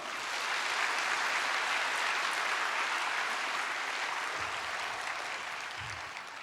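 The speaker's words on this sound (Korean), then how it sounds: "우리 박수로 환영하겠습니다." A church congregation at a Sunday worship service gives warm, steady applause to welcome the preacher, an even roomful of clapping that continues without pause and eases slightly near the end.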